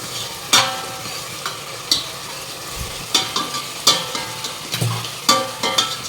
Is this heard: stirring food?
yes